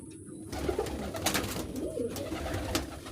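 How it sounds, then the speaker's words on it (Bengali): Pigeons gathering together to eat coo in soft, throaty, repeated calls that overlap close by, with light flutters and rustles around them. "এই যে দেখেন আমার সুন্দর কবুতরগুলো সব একসাথে খেতে আসছে।"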